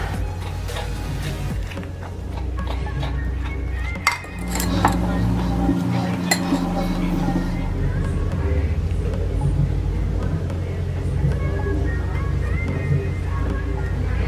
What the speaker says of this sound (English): And I've got some cream and the cocoa powder. So I'm going to mix that all along.